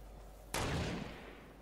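A single sharp gunshot goes off in the video game Fortnite. It cracks abruptly out of quiet game ambience and then fades in a short tail.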